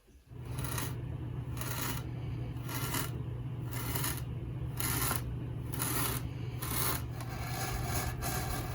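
Foam board panels, 24 by 24 inches, being sliced down the middle, giving a steady rasping scrape in repeated even strokes with a constant low hum underneath.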